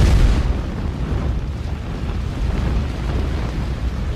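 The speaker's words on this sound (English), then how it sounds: "The explosive pulse travels up the detonating cord." Demolition explosives firing along detonating cord to cut building columns, a loud booming blast at the start followed by a sustained low rumbling roar with wind buffeting on the microphone.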